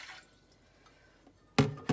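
Warm tap water from a measuring cup poured into a bowl, a brief splashing gush near the end after a faint quiet stretch, ending with a second short slosh.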